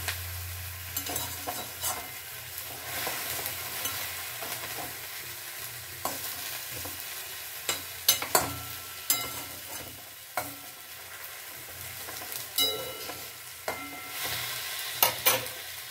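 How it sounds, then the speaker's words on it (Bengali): Onions frying in a pan and being stirred, giving a steady close sizzle with repeated spatula scrapes and knocks at an uneven pace for about sixteen seconds, no voices. "এবার আমি একটু নাড়িয়ে নিলাম।"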